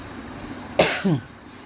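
A single sharp cough from someone with a cold bursts out close by in a quiet room, followed by a short, rough throat sound.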